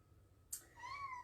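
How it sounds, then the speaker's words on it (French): A faint single cat meow in a home kitchen, soft and brief with a rising, drawn-out tone after a small click, and no talking. "j'ai un chat qui me réclame"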